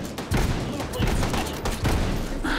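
Rapid gunfire in Hot Dogs, Horseshoes & Hand Grenades, a VR shooter on HTC Vive played on the Abandoned Port custom map, with loud repeated bursts of shots filling the clip in quick succession.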